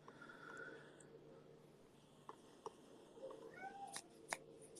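A faint cat meow drifts in from nearby, with soft rustling and a few light taps and clicks around it in an otherwise quiet room.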